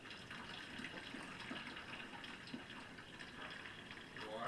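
Water runs from a tap into a quart bottle of yellow tie dye color, a soft continuous splashing pour that grows slightly louder toward the end.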